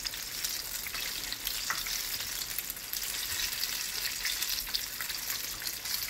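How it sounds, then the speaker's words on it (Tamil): Fish bajji deep-frying in hot oil, a steady dense crackling sizzle that holds close and even throughout with no voices. "இப்போ வந்து மீன் பஜ்ஜி வந்து நல்லா பொரிஞ்சிருது"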